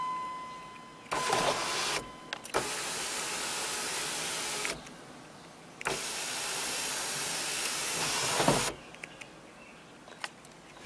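An electric sunroof motor in a Chevy Caprice whirs in several separate bursts, each a few seconds long, with quiet pauses between them, fairly close and steady.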